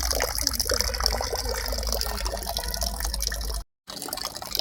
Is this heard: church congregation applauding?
no